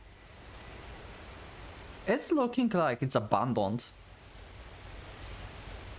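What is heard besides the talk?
rain pouring outside, from video game Kikokugai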